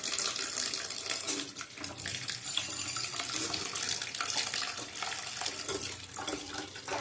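Food rinsed under cold water running from a kitchen tap, a steady broadband splashing rush that stays loud and close for the whole stretch, with slight shifts as the food moves under the stream.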